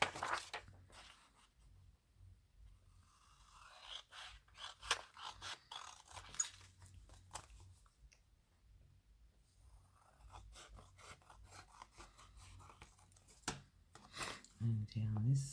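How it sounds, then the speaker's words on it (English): Paper being trimmed for scrappy junk journal inserts, a series of quiet scraping and snipping cuts with pauses between them, close and soft, ending with a few handling knocks. "And then I'm just going to trim that out."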